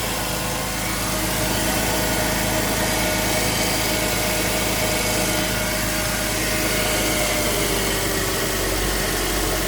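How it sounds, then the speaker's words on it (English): A 2001 Porsche Boxster S engine idles steadily just after a cold start, a close, continuous mechanical hum with light vibration and no pauses. "So there's the idle down. The cold start procedure is just finished."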